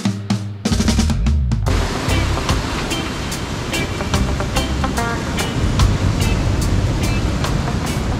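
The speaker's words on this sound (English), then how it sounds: "Ocean is attacking the front." Ocean waves crash and wash onto a beach at Cateel, Philippines, in a loud, continuous surf roar. A few sharp clicks come at the start, and no one speaks.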